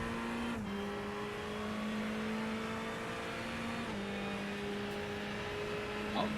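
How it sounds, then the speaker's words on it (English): A GT3 race car in the iRacing sim at the Long Beach street circuit, its engine droning steadily with throttle lifts and shifts in pitch as it rounds a turn, continuous and close with no talk. "You hear the throttle control of the car as he comes around"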